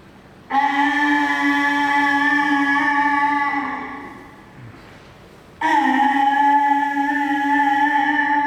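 A shofar sounds twice, each a long, steady, brassy, horn-like tone held for several seconds, with a short breathy pause between them.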